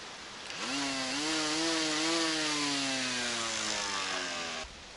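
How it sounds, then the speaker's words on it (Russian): A small battery-powered cordless lawn mower, a miniature model, cutting reeds outdoors near a campsite, with a steady motor whine that rises in pitch as it spins up, holds for about four seconds while chewing through the stalks, then cuts off. "Теперь посмотрим, как справиться с камышом моя миниатюрная газонокосилка аккумуляторная."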